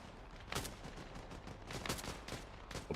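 Two sharp sniper rifle shots from Arma Reforger, a military video game, cracking out about a second apart over a low steady background, with a few fainter reports trailing after.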